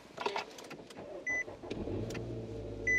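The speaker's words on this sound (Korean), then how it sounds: "시동 소리는 휘발유 엔진답게 굉장히 정숙하고 부드럽게 잘 걸리고 있는 차량이고" A Nissan Altima sedan's gasoline engine cranks briefly and settles into a smooth, quiet idle heard from inside the cabin, with a couple of short electronic chimes.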